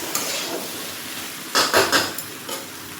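Vegetables sizzle in a pan while being stirred, a soft steady frying hiss broken by a few louder scraping stirs.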